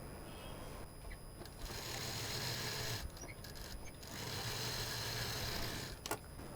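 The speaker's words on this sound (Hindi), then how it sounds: "अब इसको यहाँ पर हम सिल देंगे।" A sewing machine stitches a short length of fabric piping, a faint, steady mechanical whir with brief pauses and small clicks.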